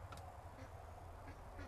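Ducks in a straw-bedded barn pen, faint scattered quacks and soft calls over a low steady background hum.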